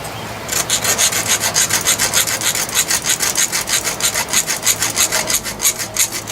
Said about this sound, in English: you got to do just a little bit of sanding in there